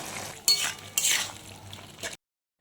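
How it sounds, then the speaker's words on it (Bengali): Chicken with garam masala and spices being stirred and fried in a pan for a Bengali potol dorma, with scraping spoon strokes around 0.5 and 1 second and a soft sizzle, ending abruptly in silence. "এখন আরও কিছুক্ষণ ধরে কষে যেতে হবে।"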